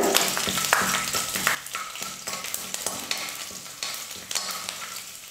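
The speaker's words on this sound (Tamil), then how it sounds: "உளுத்தம் பருப்பு கடலை பருப்பு ஓரளவுக்கு வறுபட்டதும் பூண்டு சேர்த்துக்க போகிறேன்." Urad dal, chana dal and garlic fry in oil in a pan for a leftover rice dish, a loud close sizzle with frequent scraping stirs that settles slightly quieter later, no talking.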